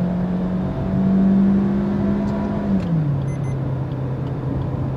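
A 2022 Maruti Suzuki XL6 engine with a 6-speed automatic in manual paddle-shift mode holds a steady hum, rises briefly in pitch, then drops to a lower, even drone, with no talking.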